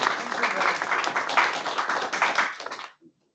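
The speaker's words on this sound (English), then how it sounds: "Please give him a round of applause." An audience at an academic workshop on nonlinear control gives a speaker a burst of dense, steady hand clapping for about three seconds before it stops abruptly.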